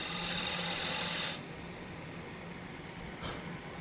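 A gouge scoops wood on a turning lathe, making a steady, close hiss of cutting that stops abruptly after about a second and a half, leaving the hum of the lathe and a brief scrape near the end.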